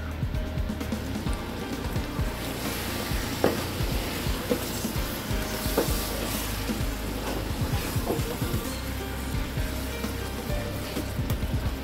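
Chicken frying in spices in a pot for chicken and pea pulao, a steady close sizzle with scattered spits and stirring clatter throughout.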